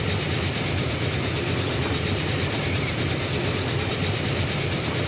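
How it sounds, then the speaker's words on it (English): Freight trains rumble through a tunnel in the Transport Fever 2 simulation, a continuous loud roar of rolling wagons with faint rhythmic clatter and no break. "You can see the freight train just popped into a tunnel and out the other side, and you can see more freight trains over there."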